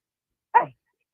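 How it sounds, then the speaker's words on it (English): Dog giving a single short bark, close and sharp, isolated in otherwise quiet surroundings. "Hey, who's barking there?"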